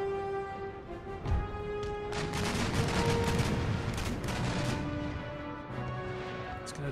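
Naval battle gunfire in the video game Empire: Total War, with broadband cannon and musket blasts rolling on without a break over steady game music. The volley peaks in the middle and fades to scattered shots near the end.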